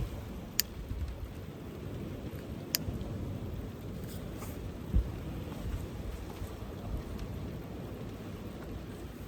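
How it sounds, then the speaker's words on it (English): Heavy rain falls steadily outdoors at dawn beside the water while fishing, a constant close hiss of drops with a few sharp drips and faint gusts of wind. "Now the rain's getting heavy."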